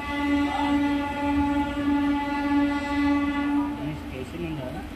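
A MEMU passenger train running at speed between Secunderabad and Warangal, with a steady loud droning tone that holds for about four seconds over continuous rolling rumble, then fades into rougher rail noise.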